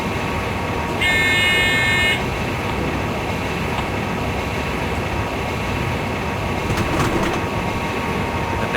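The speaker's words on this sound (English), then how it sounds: "Now the train is braking once again for the speed reduction back down to 160 kilometres per hour." An ICE2 high-speed train in Train Simulator 2015 runs on the Hamburg to Hannover line, its steady loud rolling rumble and hiss continuing while braking, with a brief high electronic tone partway through.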